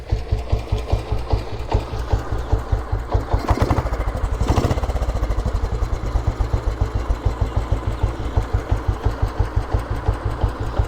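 A 1978 Royal Enfield Bullet petrol motorcycle engine idles steadily nearby, a loud, even putt-putt thumping rhythm that rises briefly once or twice, with no talking.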